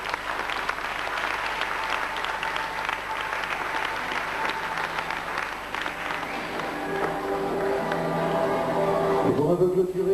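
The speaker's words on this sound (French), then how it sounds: "On applaudit bien fort, merci." An audience at a 1997 aikido demonstration applauds, a dense steady clapping that keeps going across the whole stretch and swells a little louder toward the end.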